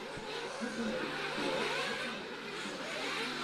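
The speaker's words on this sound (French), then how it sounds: "Allez, d'autres voitures rentrent là." Nitro-powered 1/8 scale RC race cars pulling into the pit lane at a French national championship final, a steady mid-pitched engine drone with rising and falling revs, fairly distant and continuous throughout.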